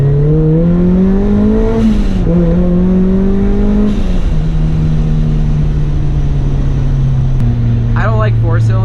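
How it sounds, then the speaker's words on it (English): A supercharged Mazda Miata four-cylinder with a Racing Beat exhaust revs up and down in several strong rising and falling sweeps. It is loud and close, with a brief voice near the end. "I think this particular exhaust setup on this Miata sounds pretty darn good"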